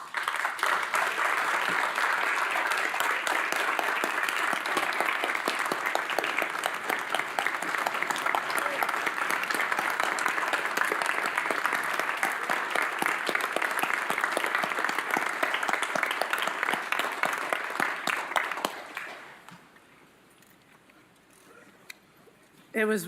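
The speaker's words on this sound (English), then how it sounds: "If you could stand, and if you're already standing, please raise your hand so we can give you a round of applause" Sustained applause from a community gathering for city police and fire crew members, a long, even roar of many clapping hands that holds steady before tapering off into near silence.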